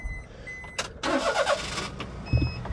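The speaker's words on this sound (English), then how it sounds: "I'll just come in here, start the engine." A small Daihatsu Hijet S210P 4x4 mini truck engine cranks briefly and catches, revving into a rough idle, preceded by a few electronic chimes.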